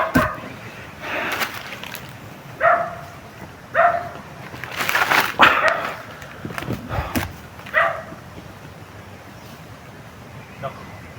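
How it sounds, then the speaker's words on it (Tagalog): Dogs bark intermittently at some distance, a handful of short yelps spread over several seconds amid steady outdoor background noise, with people talking nearby. "Tumawal yung aso."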